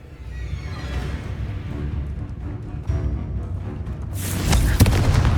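A Confringo fire spell explodes in Hogwarts Legacy, a burst of crackling blast erupting after a low rumbling stretch of game ambience, loud and close.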